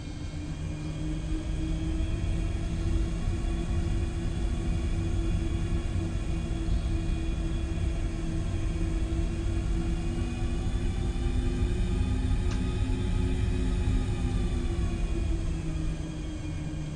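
An airliner's jet engines hum steadily while it taxis in Flight Simulator 2024, producing a constant, even drone with faint whining tones that holds throughout, with no voices over it.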